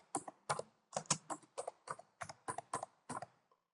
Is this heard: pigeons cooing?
no